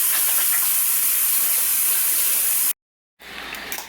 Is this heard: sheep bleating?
no